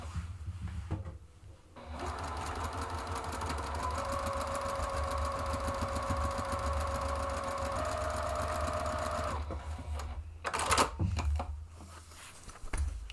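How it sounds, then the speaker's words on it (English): A sewing machine runs steadily for about eight seconds, stitching across a zippered bag's lining at a 3/8-inch seam allowance, then stops, followed by a few handling knocks and rustles. "now I'm going to stitch across there using the 3/8 of an inch"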